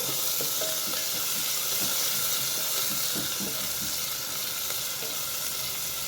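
Onions with ginger-garlic paste and turmeric sizzle steadily in a pan, a dense, even crackle with faint scattered stirring clinks throughout and no talking.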